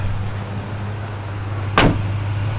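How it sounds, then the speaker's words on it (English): A 1966 Chevrolet C10 truck with a Magnaflow dual exhaust idles in a steady, low, droning rumble, broken near the end by one brief, sharp knock or thump. "That's a Magnaflow dual exhaust."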